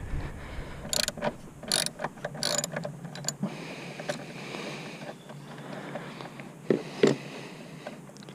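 A hand ratchet loosens the airbox bolts on a Hyundai Veloster N during an intake install, giving a few short bursts of clicking followed by quieter scraping and handling noises, close and fairly faint.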